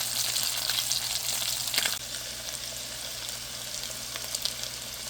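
Pieces of river pangas fish fry in hot oil, giving a steady, close crackling sizzle that carries on throughout, with a brief stir or shift partway through.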